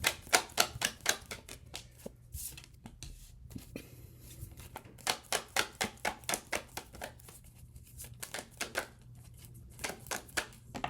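Tarot cards being shuffled and pulled one by one, a run of crisp, rapid flicking and slapping bursts with short pauses between them, close and fairly quiet with no talking.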